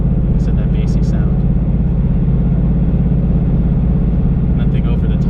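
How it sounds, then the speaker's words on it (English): Cabin of a 2018 Mustang GT fitted with a Roush resonator-delete X-pipe, steady deep bassy engine drone while accelerating or holding speed, muffled and continuous with no talk over it. "This is me accelerating or maintaining speed inside the vehicle."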